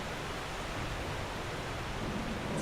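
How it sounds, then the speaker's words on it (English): A loud waterfall in a Dark Souls video game, a constant broad roar of rushing water that holds steady throughout, with no voices over it. "One sec, there's a waterfall."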